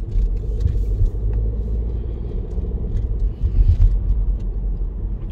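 Car on a driving-test route slowing gently into a bend, a steady low engine and road rumble heard from inside the cabin, close and continuous with slight swells.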